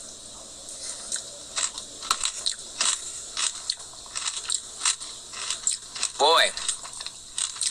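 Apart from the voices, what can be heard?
eating DQ Peanut Butter Puppy Chow Blizzard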